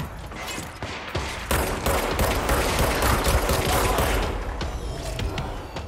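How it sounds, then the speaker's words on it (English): Enemy gunfire aimed at the player in the game Control, a sustained rapid fusillade of close, loud shots rattling for several seconds with a brief quieter start. "He's shooting at me."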